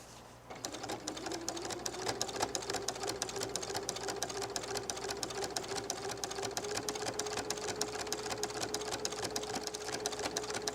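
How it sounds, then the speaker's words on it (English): A sewing machine with a walking foot stitches a quilted fall table runner, running as a steady, close, continuous whirring hum with a fast even needle rhythm and no talking. "I'm going to sew down to the end of this piece"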